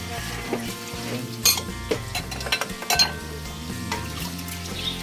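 Dishes are washed by hand, with plates and cutlery clinking and scraping over running water and several sharp clatters amid a low background hum.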